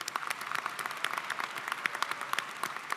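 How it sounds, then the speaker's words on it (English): Applause from a high school commencement crowd for the orchestra and choir, a steady dense patter of many hands clapping at a moderate distance throughout. "so I just want to give them an applause too."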